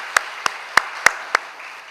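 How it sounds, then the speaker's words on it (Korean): A handful of sparse, separate claps from a church congregation welcoming newlywed families, about five sharp hand claps spaced unevenly over a quiet room, with no voices. "박수로 환영해 주시기 바랍니다"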